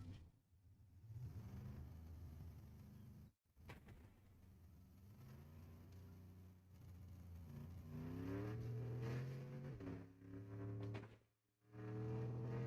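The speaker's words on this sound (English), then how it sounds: "There's a car." A car in the video game Fortnite drives along with a steady mid-pitched engine hum that climbs as it revs up late on, broken by two short dropouts; no talk over it.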